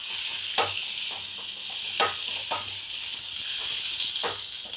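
Turkey berries, tomato and onion frying in a pan, a continuous hiss of sizzling broken by repeated scraping stirs at an uneven rhythm, close and fairly quiet.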